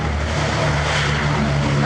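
Steady propeller engine drone from a B-17 Flying Fortress bomber flying past at an airshow, a continuous loud rumble with a low engine hum and no voices.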